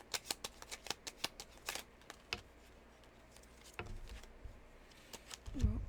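Tarot cards are shuffled by hand in quick crisp riffles and slaps, close up, with a short pause and a few softer card movements before a faint voice near the end.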